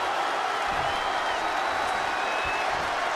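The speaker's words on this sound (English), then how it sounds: "these fans are showing their approval of these superstars' performances" A constant roar of cheering and applause comes from an arena crowd during a WWE 2K20 wrestling match between Triple H and The Rock. It stays loud and unbroken for the whole stretch.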